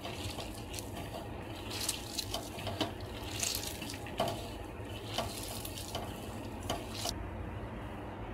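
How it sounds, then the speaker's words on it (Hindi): Gram flour batter being mixed by hand with chopped onions, no water added, for crispy onion pakoda (kanda bhajiya): close, continuous wet squelching and stirring with small irregular bursts, no talking. "और इसमें बिना पानी डाले ही इसे अच्छी तरह से मिक्स कर ले।"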